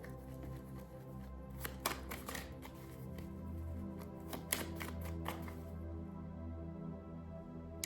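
A deck of tarot cards is shuffled during a pick-a-card reading, giving faint, quick papery riffles and taps in bursts over a steady low background hum, with no talking.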